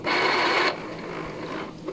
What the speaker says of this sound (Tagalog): Power ulit natin yung printer.